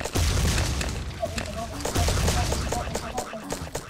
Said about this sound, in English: they're throwing grenades at me.